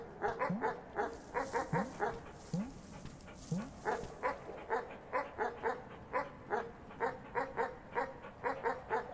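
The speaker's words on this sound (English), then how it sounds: "I kinda hate this dog." A dog in the video game Animal Well barks and whimpers in quick repeated bursts, a rhythmic run of yelps and whines at a fairly close, even level, with no talking.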